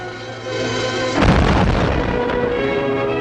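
A ship's guns opening fire, a sudden loud booming blast that rolls into a sustained rumbling roar over steady background noise, with no speech.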